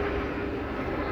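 Passenger airplane passing overhead, a steady broad roar of jet engines filling the short moment at even loudness, with no voices.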